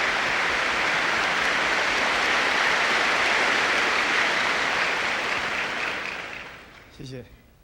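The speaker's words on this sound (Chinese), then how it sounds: "让我们以热烈的掌声来欢迎最丑陋的明星林峰先生" An evening gala audience in a grand hall gives loud, dense applause welcoming a guest onto the stage, sustained and then fading out, with a voice briefly starting at the end.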